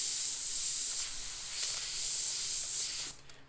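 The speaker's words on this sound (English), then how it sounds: "Spray around the mixing cup." An airbrush sprays paint around a mixing cup used as a stencil for lowrider-style art, a close, steady hiss in several bursts that cuts off near the end.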